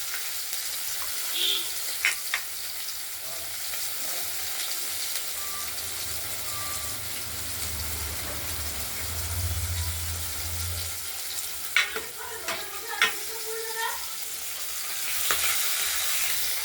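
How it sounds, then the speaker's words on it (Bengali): Cut katla fish pieces fry in a pan of oil, with a steady sizzle, a low rumble midway and a cluster of clattering, scraping stirs near the end. "মাছ ভাজা হয়ে গেছে ইতিমধ্যে।"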